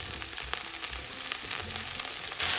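Mushrooms dropped into a hot frying pan with potatoes give a steady, close sizzle with faint crackles and stirring noises, heard alone without talk.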